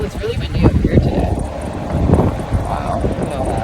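Strong wind buffets the microphone while driving around a storm-damaged area, a loud, continuous low roar with gusty swells throughout, and a voice speaks over it.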